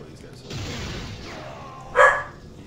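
A single short dog bark sounds once, mid-level and slightly distant, against a low murmur of background noise.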